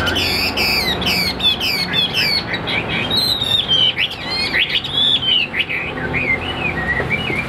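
Red-whiskered bulbul singing close and loud, a run of bright, quick chirps and warbling whistled phrases repeated over several seconds, with a few squawky notes against a low background hum.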